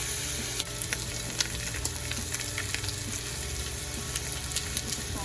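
A ribeye steak sears in a hot pan with a loud, continuous close-up sizzle and crackle, steady throughout, with scattered sharp pops of spitting fat and no talking.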